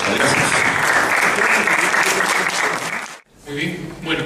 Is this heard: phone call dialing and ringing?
no